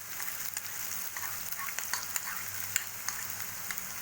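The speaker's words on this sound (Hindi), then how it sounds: "अब मैं इसमें प्याज डाल दूँगी" Onions frying in oil in a pan for Indian-style macaroni pasta, after ginger and green chillies, giving a steady close sizzle with faint crackles and stirring scrapes throughout, no voices.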